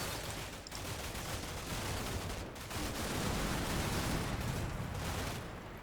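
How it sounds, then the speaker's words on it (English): Sustained distant gunfire pours from a building in the Combat Mission Shock Force 2 war game, a dense, faint crackle of rifle and machine-gun fire rolling on continuously without clear separate shots. "there's a lot of fire coming out from this building here"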